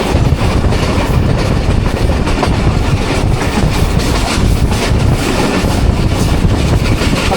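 Millat Express passenger train running through a Pakistani station between Lala Musa and Khanewal, recorded from aboard as a loud, constant rumble with rapid rail clatter and wind roar throughout.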